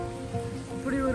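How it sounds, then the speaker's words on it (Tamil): Heavy rain pours down outside a residential area at night's dinner time, a steady dense hiss with a faint tonal hum and a brief voice-like tone near the end. "பயங்கர மழை பெய்யுது, கச்சாமுச்சான்னு."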